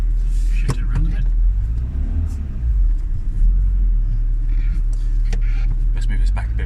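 A Renault Twingo's engine runs steadily as the car is driven, producing a continuous low rumble that stays loud and close for the whole stretch, with brief clicks and knocks over it and a person talking now and then.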